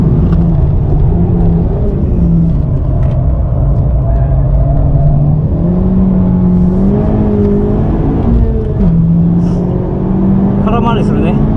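Honda Civic Type R FK8 engine recorded onboard from inside the car, a loud, steady drone that climbs and dips in pitch as it revs through the gears and runs continuously throughout.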